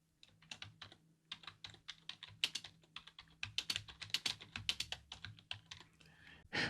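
Rapid, uneven keystrokes on a computer keyboard as a blog post title is typed, close and fairly quiet, with no talking.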